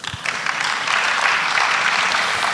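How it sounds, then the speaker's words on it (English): An audience in a hall breaks into applause at a business roadshow, a dense burst of clapping that rises quickly and holds steady and loud. "A round of applause for him one more time"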